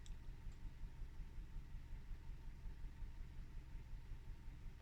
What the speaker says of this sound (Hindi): आप देख सकते हैं डिफरेंस 4 सिलेंडर इंजन का।